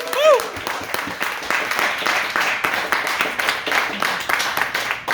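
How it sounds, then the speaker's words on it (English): A comedy club audience applauds during a headlining stand-up set at Chameleon. A short voice opens the clip, then continuous crowd clapping fills the rest with a rippling, even texture. "Would it be too much to ask for another applause, please?"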